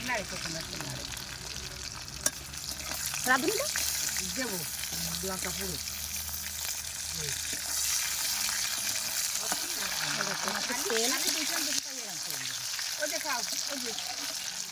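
Dried red chilies fry in fish oil in a home kitchen, with a steady, close sizzle and occasional stirring scrapes. A voice talks over the frying for most of the clip.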